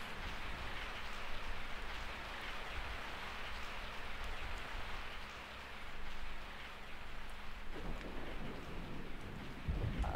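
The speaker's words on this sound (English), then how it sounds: "I woke up to the sound of falling rain." Steady rain falls throughout in The Lord of the Necropolis, a broad continuous hiss of drops on surfaces that briefly eases midway and then returns, with a faint low hum beneath it and no voices.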